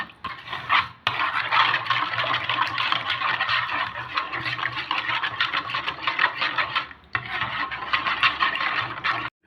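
Egg white and half a cup of oil are mixed by hand in a bowl for a Tunisian tuna soufflé dough, making continuous close scraping and stirring with brief pauses near the start and late on.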